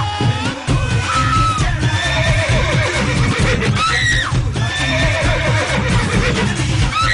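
A mare whinnies loudly over a steady bed of music, with a rising, shaky neigh partway through and faint hoof clip-clops mixed in.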